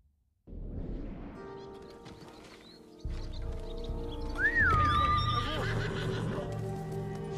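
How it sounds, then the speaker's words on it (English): A horse in the video game Ghost of Tsushima gives a clear, rising whinny over a layered game soundtrack and ambient nature tones, with soft hoof sounds and brief talking. "Is that me calling my horse?"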